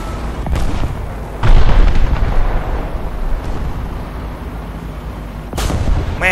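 Deep booming cannon shots from an M4A3 (105) tank in War Thunder, two heavy blasts with rumbling battlefield noise between them, loud and close.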